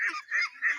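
Ducks on a duck farm give harsh, nasal honking quacks, three quick calls in a row, loud and close with nothing else over them.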